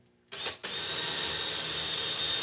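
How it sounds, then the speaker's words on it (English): A worn-out electric drill drilling metal starts with a short burst, pauses, then whines steadily at high pitch, close and loud, running alone. "This drill's about wore out, as you can see."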